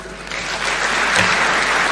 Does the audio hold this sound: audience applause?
yes